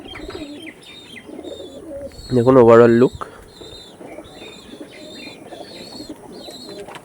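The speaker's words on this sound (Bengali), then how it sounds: "তোমার পায়রা দেখিয়ে দেবো আমি অরিজিনাল জোড়া" Andhra pigeons coo nearby with a brief loud burst of cooing, over ongoing small bird chirps and someone talking briefly.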